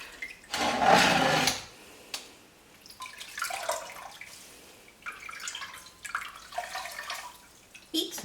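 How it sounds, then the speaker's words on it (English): Onion-skin-dyed yarn is washed in water, with splashing, swishing and dripping in uneven bursts at close range, louder at first, then softer sloshes. "Right, the yarn has cooled down, and I'm now going to wash it"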